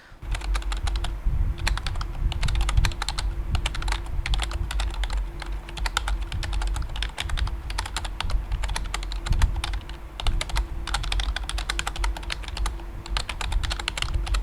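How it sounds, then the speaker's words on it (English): Rapid, continuous clacking of keys on a standard office keyboard, close and steady, with a brief heavier stroke partway through and no voices. "you will recognize this iconic office keyboard sound."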